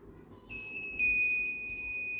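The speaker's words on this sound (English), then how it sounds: "buzzer is beeping" An Arduino laser security system's alarm buzzer starts sounding when the laser beam is crossed and keeps beeping in a continuous high, piercing tone over faint background noise.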